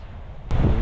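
Strong wind outdoors at sunset, heard first as a low rumble. Halfway through, a sudden gust buffets the microphone into a loud, deep roar.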